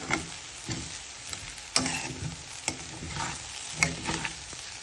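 A puffed rice breakfast snack with crushed roasted gram being stirred in a pan, steady sizzling with sharp scraping clicks of the spoon every second or so, close and clear.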